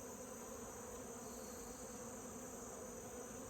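Steady, close buzzing of many honeybees at an opened hive, a continuous hum that holds level throughout with no voices.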